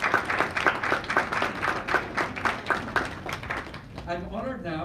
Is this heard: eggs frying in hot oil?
no